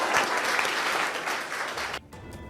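Dense, loud clapping from an audience continues for about two seconds, then cuts off abruptly into quieter sound.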